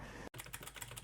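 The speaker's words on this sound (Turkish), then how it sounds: "Arkadaşlar biraz klavye sesi geliyor bu arada kusura bakmayın gerçekten." Computer keyboard keys clatter in quick, steady bursts close to the microphone, with a brief gap near the start, while a game is played.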